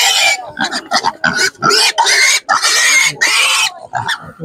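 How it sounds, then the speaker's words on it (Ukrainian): Piglets at an open-air animal market in western Ukraine squeal loudly and shrilly in repeated overlapping bursts, close by, with brief gaps between cries and some grunting. "Але дивіться, які величезні порося"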